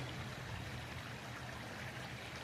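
Steady outdoor water flow, a continuous broadband rushing with a low rumble, heard alone and fairly faint.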